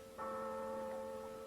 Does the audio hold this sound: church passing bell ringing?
yes